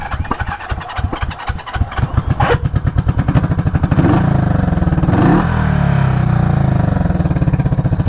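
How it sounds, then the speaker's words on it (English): A Honda CB350 barn-find motorcycle turns over on its electric starter and catches, settling into a loud, close, steady rhythmic idle that keeps thumping evenly to the end. "It's really nice this bike has electric start too."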